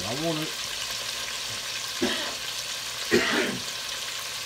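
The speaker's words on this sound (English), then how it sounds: "I want to sear this off, get a nice good sear on this meat" Beef strips cut about an inch wide searing in a hot pan for old-school beef stew, a loud continuous sizzle close up, with a man's brief remark near the start and a few stirring scrapes.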